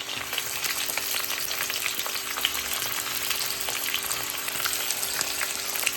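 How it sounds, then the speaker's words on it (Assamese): Onions crackle in hot oil in a kadai while pulao and meat are being cooked, a close, continuous sizzle with fine popping spatters and no talk. "গৰম হোৱাতে মই তেলত পিঁয়াজ দি দিলোঁ।"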